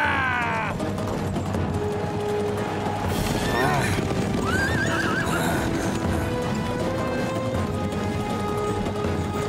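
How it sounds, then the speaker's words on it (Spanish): Several horses neigh and whinny over a constant thunder of galloping hooves in an animated cartoon gladiator race, loud and close, with no pauses. "¡Esos caballos parecen demonios!"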